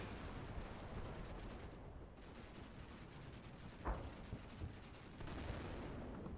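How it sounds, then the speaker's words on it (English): Distant .50 cal machine gun bursts and mortar impacts in the Combat Mission Black Sea wargame, a dense steady rumble of gunfire with one sharper crack partway through and a few softer thumps. "that 50 cal fire is on these guys up here"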